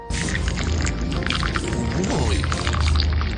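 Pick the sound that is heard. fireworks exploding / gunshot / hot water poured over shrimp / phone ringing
hot water poured over shrimp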